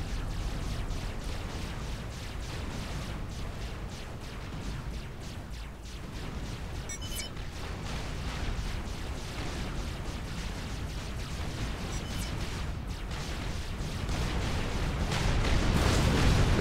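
Flak anti-air fire in the strategy game Forged Alliance, a continuous rumbling wash of bursts and explosions that grows louder near the end, with no talk.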